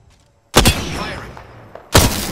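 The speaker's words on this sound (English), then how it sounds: "Firing." Two loud, punchy video game weapon blasts go off about a second and a half apart, each followed by a decaying rumble, after a quiet start.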